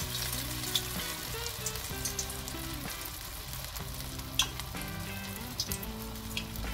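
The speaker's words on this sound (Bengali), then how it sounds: "ভাজবেন সবসময় মিডিয়াম ফ্লেমে হাই না লো না মিডিয়াম ফ্লেম তাতে ভাজাটা মচমচে এবং সুস্বাদু হবে" Pumpkin flower fritters frying in oil on a medium flame, a continuous crackling sizzle with scattered sharp pops, while faint music plays underneath.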